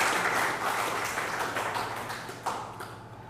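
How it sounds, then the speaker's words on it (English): A hall audience at a memorial oration gives a round of applause, a dense broad wash of clapping that starts full and gradually thins and fades over a few seconds, with no voices on top. "Please give him a very good round of applause."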